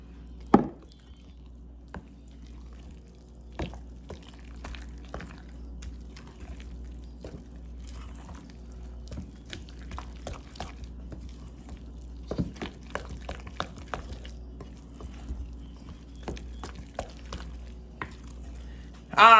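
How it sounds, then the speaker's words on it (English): Drink ingredients for Jamaican blue draws being poured into a cup: faint, quiet liquid trickles with scattered drips and small clicks over a low background hum. "I'm going to pour the rest."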